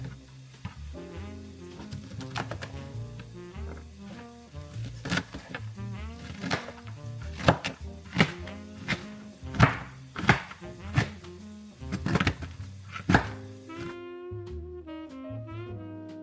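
Broccoli is chopped for broccoli cheddar soup, with a run of sharp knife knocks against a board that grow louder and more frequent toward the middle before stopping.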